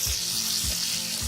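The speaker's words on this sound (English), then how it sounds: "Stir it well." Pointed gourds stuffed with spices, salt and turmeric sizzle steadily in a pan while being stirred, with a continuous loud frying hiss and a few soft low scrapes of the spoon at regular intervals.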